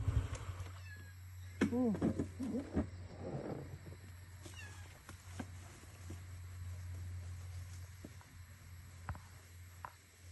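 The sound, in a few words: stray cats meowing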